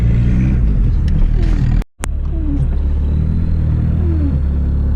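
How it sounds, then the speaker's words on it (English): A front-wheel-drive car idles and rumbles loudly nearby in snow with a low, steady engine drone, broken by a brief dropout before the rumble resumes. "drifting into your driveway and then proceeding to link it and drift back out of it"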